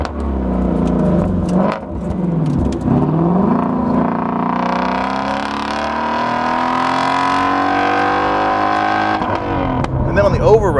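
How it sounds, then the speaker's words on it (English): Ford Mustang V8, a Shelby GT350 or Boss 302, revving hard under acceleration with a loud, rising gargling engine note that climbs steadily for several seconds, close up and dominant. "On acceleration, this engine sounds like Chewbacca gargling."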